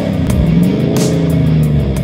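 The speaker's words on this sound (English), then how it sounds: "listen to the sound of the engine" A Jeep engine fitted with a Borla exhaust revs loud and close during off-road driving in Moab, giving a steady rumbling drone with a rising and falling rev through the short stretch.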